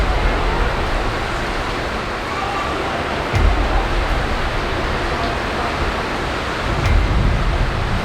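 Strong typhoon wind roars steadily during Typhoon Aghon, a loud broadband rush with two stronger gusts swelling near the middle and end.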